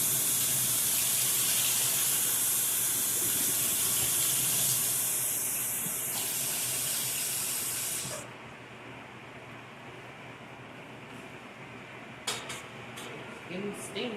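Water pours and splashes steadily from a pot into a sink for several seconds, then stops, leaving a quieter kitchen with a few light clinks and knocks.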